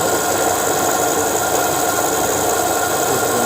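A generator engine runs steadily at about 1466 RPM during a test, a loud continuous drone with constant vibration and no variation, close up with no voices.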